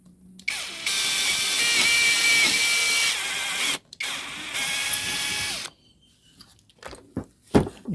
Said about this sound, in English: I need to drill a hole next to the broken screw